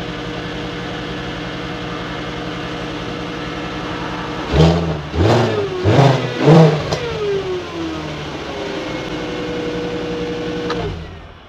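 A Volkswagen Golf 5 R32's 3.2-litre VR6 engine idles steadily, then is revved hard in several quick blips before dropping back to a smooth idle.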